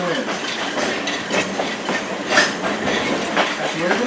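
The Essex Steam Train rolls along its rails with a continuous rhythmic clickety-clack and rumble heard from on board, steady and fairly loud, with faint talk mixed in.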